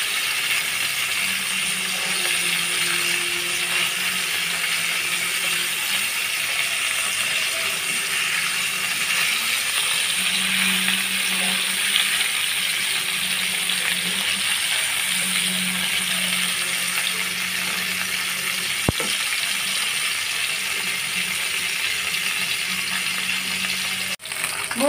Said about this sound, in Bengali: মাছগুলো দিয়ে আমি উল্টিয়ে পাল্টিয়ে ভালোভাবে লাল লাল করে ভেজে নেব